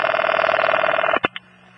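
A telephone line ringing on a call placed to a Murray Hill exchange number: a steady, loud buzzing tone for about a second, cut off by a few sharp clicks as the line connects, with no voices.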